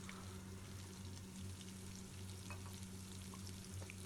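Tomato paste from two large tomatoes cooking in a pan for kofta curry, a steady soft sizzle and bubbling hiss held at an even, fairly quiet level with no voices.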